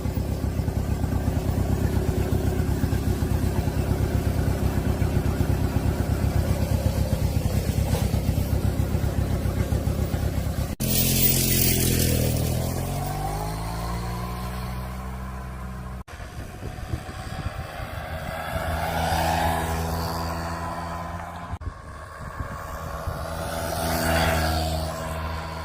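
A Honda Hobbit PA50 moped runs steadily up close, then pulls away and sweeps past in several rising and falling passes, its small two-stroke engine buzzing and changing pitch with each pass.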